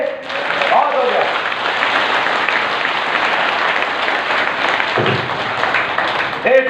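Sustained audience applause at a devotional gathering, a dense steady wash of many hands clapping for several seconds, loud and close throughout, with a brief voice near the end.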